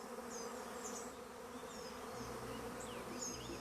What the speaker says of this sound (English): But swarming bees consume a great deal of energy.